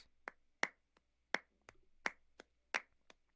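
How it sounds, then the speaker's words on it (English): A doubled hand-clap pattern for Latin percussion lands as sharp, dry, close claps in a syncopated rhythm, about a dozen hits with some strong and some light, against silence. "it sounds like there's multiple people clapping"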